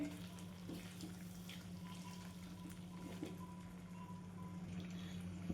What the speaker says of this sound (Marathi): थोडं पाणी टाकून घेते मी